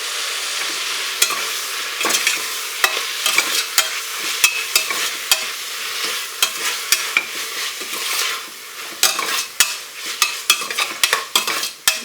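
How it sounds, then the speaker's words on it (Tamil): Green chillies, coriander and mint sautéing with ginger-garlic paste for a soya chunks biryani, a loud steady sizzle broken by frequent sharp spatula clacks against the pan, growing busier toward the end. "சேர்த்துட்டு நல்லா வதக்கி விட்டுக்கோங்க."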